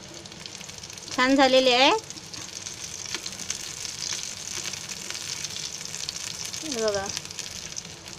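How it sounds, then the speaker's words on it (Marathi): Bread rolls fry in oil in a pan until brown, giving a steady, moderate sizzle throughout, with someone speaking briefly twice over it. "असे ब्राऊन होईपर्यंत भाजायचे, म्हणजे तळायचे."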